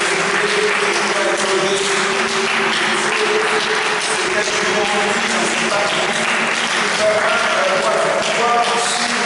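A church congregation applauds steadily, a loud continuous wash of many hands clapping throughout, with faint voices and singing tones underneath.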